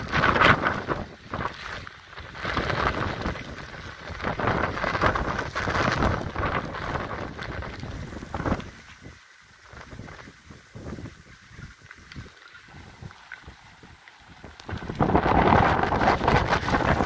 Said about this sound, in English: Wind is blowing like a winter storm.